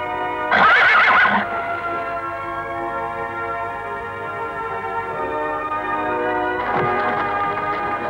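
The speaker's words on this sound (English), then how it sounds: "Na Fury, wie wär's mit einem kleinen Ausritt?" A horse gives a loud, close whinny, is quiet for several seconds, then whinnies again, with a steady hum throughout.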